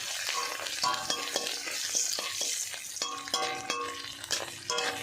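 Dried fish frying in a pan with turmeric and salt, a steady close sizzle broken by repeated scrapes and stirs of a utensil against the metal, with no voices.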